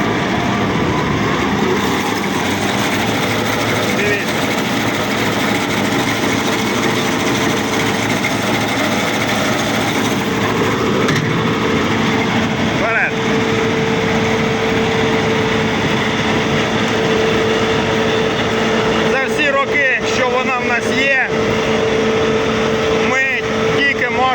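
A sunflower harvesting header on a combine revs its engine hard, a loud steady mechanical roar with a humming tone, running throughout under outdoor noise and bursts of nearby talk.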